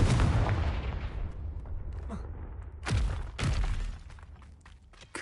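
A Confringo blasting spell fires in the video game Hogwarts Legacy: a heavy booming explosion opens the clip and decays, then two more sharp blasts crack out midway, each followed by rumbling debris.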